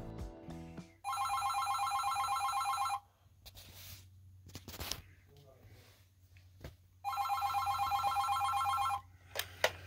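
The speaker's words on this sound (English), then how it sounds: "It's using an electronic ringer." An AT&T 210 Trimline corded phone's electronic ringer on its low setting trills in two long warbling bursts separated by a pause, with quiet handling noises and a voice in between.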